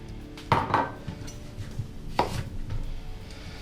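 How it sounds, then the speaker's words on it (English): Kitchen knife roughly chopping a rinsed ginger root on a board, two sharp close cuts with a few lighter knocks in between, no voices. "So I'm just going to roughly cut this"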